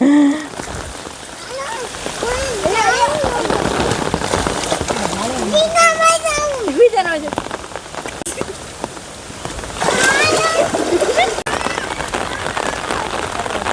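A child splashes and jumps in floodwater, producing a steady, close wash of splashing with surges of rougher sloshing, while children and adults talk and call out over it.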